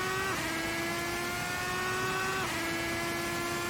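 Race car engine in a sim racing game lapping the Isle of Man TT circuit, a steady high whine held close and loud, dipping briefly with a shift before climbing back under throttle.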